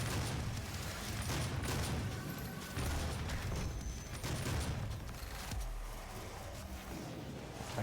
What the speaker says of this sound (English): I think something is blowing up barrels in here. That's what's that's what's making that explosion happen, I think.